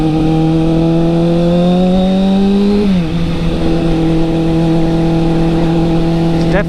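2007 Kawasaki ZX6R with an MJS Performance header and cat delete, revving high and loud, then dropping sharply back to idle before a quick blip at the end, close by.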